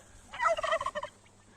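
A turkey gobbles in a rapid, bubbling burst lasting about a second, fairly close and clear against a quiet background.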